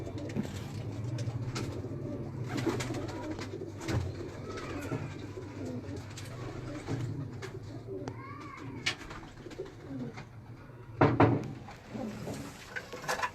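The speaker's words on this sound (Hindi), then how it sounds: "ये डब वाला कबूतर है।" Pigeons coo softly and repeatedly inside a breeder's loft, low throaty calls rising and falling, with occasional rustles and a brief clatter near the end and faint voices in the background.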